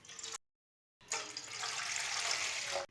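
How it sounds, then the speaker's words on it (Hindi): Water is poured from a container into a cooking pot for a herbal kahwa drink, a short splash, a brief gap, then a steady, fairly loud rushing pour lasting about two seconds. "2 कप पानी डाल लेंगे।"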